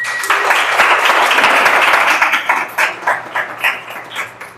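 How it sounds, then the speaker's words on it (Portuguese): Audience applause at a panel event in Nova Iguaçu, a full burst of clapping that thins into scattered, uneven claps near the end. "Salva de palmas."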